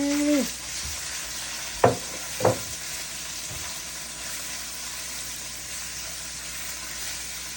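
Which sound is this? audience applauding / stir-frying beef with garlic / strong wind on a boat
stir-frying beef with garlic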